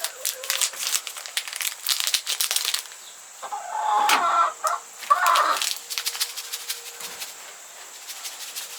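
Chickens on a farm, heard as clucks and rustling, flapping movement inside a coop, moderately close and loud, with no speech.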